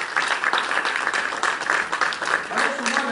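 A church congregation applauds in praise, a dense continuous clatter of many hands clapping at once, fairly close and steady for a few seconds.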